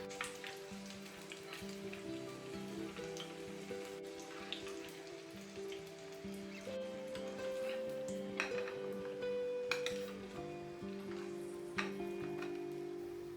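Paneer pieces frying in hot oil in a home kitchen, a steady close sizzle and crackle with scattered pops running throughout, no voices.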